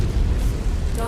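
A mech is blown apart in a video game, a short, heavy rumbling explosion with a deep booming low end that fills the whole moment.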